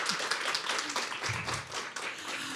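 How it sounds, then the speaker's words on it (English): Conference audience applauding, a dense steady patter of many hands clapping throughout at moderate loudness, with no speech over it. "a big round of applause."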